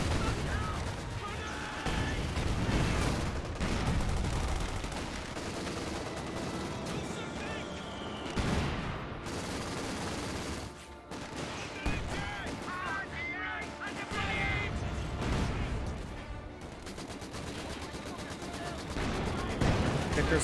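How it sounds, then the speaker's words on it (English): Vickers machine gun fire in the video game Company of Heroes 2, mixed into a dense battle soundscape of gunfire and explosions that runs steadily throughout. "Vickers firing away."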